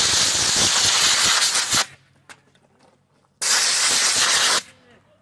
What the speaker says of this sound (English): What I'm gonna do is blow this out real good, and I'll show you that when the air compressor charges up.